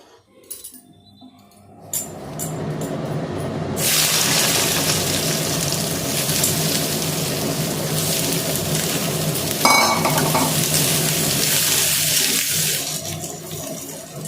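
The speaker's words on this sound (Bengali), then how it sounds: "তো সেই কড়াইটাতে তেল আছে, ওটাতেই ভেজে নিচ্ছি" Potato pieces fry in leftover oil in a kadai, a loud continuous sizzling hiss that swells after a quiet start and stays dense and close for most of the time, with no talking.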